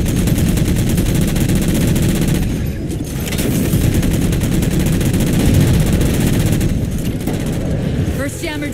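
Sustained automatic weapon fire rattles continuously in a Halo video game battle against jammers, dense and loud throughout with brief lulls, with game dialogue voiced beneath the shooting.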